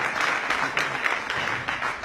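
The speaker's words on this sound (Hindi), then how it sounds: "एक बार जोरदार तालियों के लिए।" Audience applause at a health talk on cow milk and ghee, a steady wash of clapping lasting about two seconds at moderate level with no speech over it.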